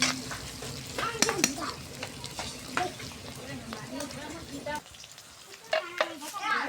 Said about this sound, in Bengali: কড়াইয়ের মধ্যে তেল দিয়ে দিলাম, একটু জিরা দিয়ে দিলাম, রসুন কুচানা, পেঁয়াজ কুচানা,